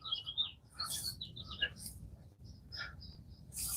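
Small birds chirp in short, scattered high tweets near a corn field during planting, fairly close, over a low rumbling background.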